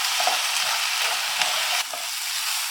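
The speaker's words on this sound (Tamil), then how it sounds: "இப்போ 5 மினிட்ஸ் தக்காளி நல்லா வதக்கியாச்சு." Tomatoes and onions sauté over medium heat in a pan, giving a steady, close, continuous sizzle and hiss with soft stirring scrapes throughout and no voices.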